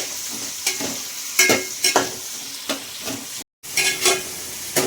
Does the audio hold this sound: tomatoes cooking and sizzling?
yes